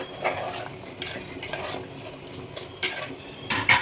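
A spoon scrapes and clinks around a metal pot of prawn biryani rice in uneven strokes, with soft grainy shuffling between the louder scrapes, close by and with no voices.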